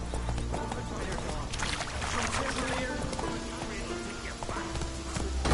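Hooves clip-clop rapidly as a horse gallops in a PS4 video game, a steady rhythmic drumming mixed with game ambience and other effects, with a voice speaking over part of it.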